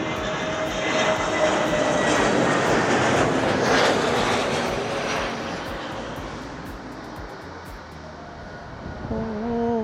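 An EasyJet airliner comes in to land at Madeira airport in Funchal, its jet engines swelling into a loud, broad roar that peaks and then slowly fades off into the distance, with faint tones near the end.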